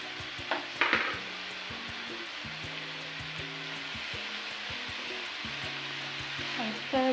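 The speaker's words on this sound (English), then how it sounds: "I stir very well to combine." Tomatoes are stirred into softened onions in a pan while cooking fresh silver cyprinid fish (omena), with a utensil clinking against the pan and a soft sizzle, faint and close.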